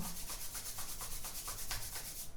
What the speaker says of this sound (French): je frotte mes mains, je réchauffe mes mains.